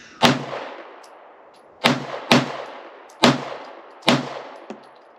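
A Shadow Systems MR920 Elite pistol fires five sharp, loud shots at uneven intervals, each with a short ringing decay outdoors, close and with no talking between them.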